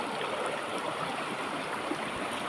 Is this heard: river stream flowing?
yes